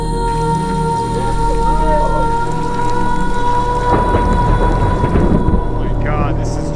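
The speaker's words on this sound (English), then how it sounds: "This hail is really bad." A hailstorm with thunder on the summit of Cheyenne Mountain: dense pelting hail and rain, with a deep rumble building midway, loud and close, while people talk.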